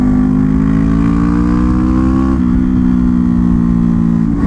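A Suzuki GSX 250R motorcycle engine drones loud and close while riding, a steady mid-pitched hum that rises gradually and then dips briefly as a gear changes.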